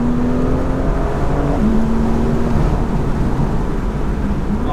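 A BMW M2 on PS4S tyres pulling hard in second gear, its engine note rising steadily as it accelerates. Heard from inside the car, the drone is loud and continuous with a whirring tone and no talk.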